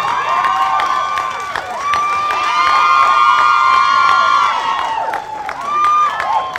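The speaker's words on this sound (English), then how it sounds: "Come on, y'all should clap for that." Guests at a North Carolina wedding ceremony clap and cheer loudly after the kiss, with whoops and shouts riding over sustained applause throughout.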